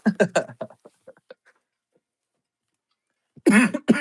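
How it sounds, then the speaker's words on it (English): Harsh, close coughing: a quick cluster of hacking bursts at the start, then near silence, then another loud, raspy burst at the end. "I have a very bad cough these days"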